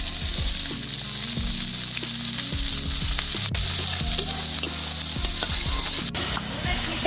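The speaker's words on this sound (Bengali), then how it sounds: "এইবারে দিয়ে দেবো পেঁয়াজ কুচি" Chopped onion and garlic frying in oil after cauliflower, a loud steady sizzle close up with repeated clinks and scrapes of stirring throughout.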